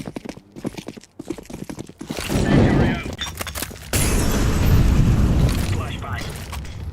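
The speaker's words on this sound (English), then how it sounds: "Flashbang." A flashbang grenade goes off during a professional Counter-Strike grand final match, giving a sudden loud burst that lingers as a broad hiss. Footsteps and game noise come before it, and commentators talk throughout.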